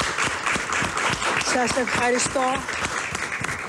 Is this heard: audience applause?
yes